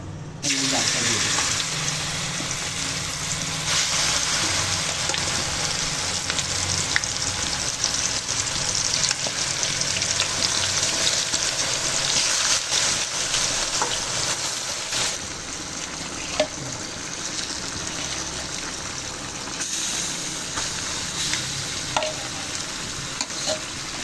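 Whole spices such as panch phoron sizzling in hot oil with olives for a pickle, a continuous crackling fry with scraping stirs and occasional clinks, running long and loud with no one talking.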